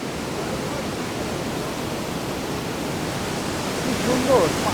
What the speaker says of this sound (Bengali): আর পানির যে শব্দ, সেই শব্দে জানি না যে অডিও কতটুকু ভালো আসছে